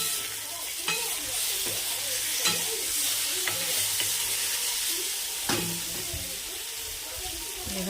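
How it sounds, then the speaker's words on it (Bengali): Eggplant (brinjal) fries in a pan with a steady, hissing sizzle, broken by several louder stirring scrapes and clatters. "দেখো বেগুন প্রায় ভাজা হয়ে এসছে।"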